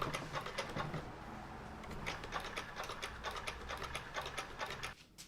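A linker machine seams the side seams of a knitted dress with a fast, steady run of close mechanical clicks and ticks, continuing evenly before stopping abruptly near the end.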